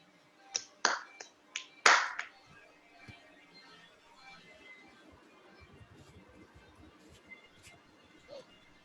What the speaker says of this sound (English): Please have a clapping for him.